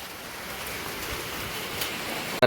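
Rain falling in big drops outdoors at a village home, a steady dense patter throughout, moderately loud with no voices.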